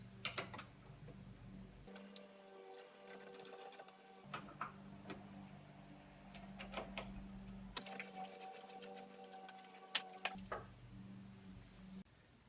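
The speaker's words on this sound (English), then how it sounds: "we have a 8mm socket, and we're just taking off both the negative and positive battery terminals" An 8mm socket wrench works loose the negative and positive terminals of a car battery, giving close runs of rapid ratcheting ticks that come in bursts and stop in between.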